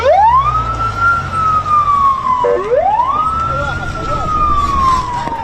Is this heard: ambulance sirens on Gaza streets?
yes